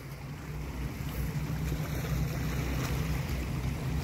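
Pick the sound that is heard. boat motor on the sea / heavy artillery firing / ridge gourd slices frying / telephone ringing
boat motor on the sea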